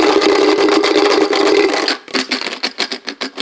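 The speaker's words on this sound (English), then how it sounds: "So we'll take 6 poker chips, toss them in here." Six poker chips are dropped into a container, first a dense continuous clatter and then a run of looser, separate plastic clicks as they settle, loud and close.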